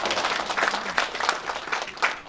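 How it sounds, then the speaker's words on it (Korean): Audience applause at a Korea-Japan friendship song contest opening ceremony, a steady wash of many hands clapping in a hall, moderately distant with a few louder bursts. "우리 격려의 박수 한번 부탁드리겠습니다."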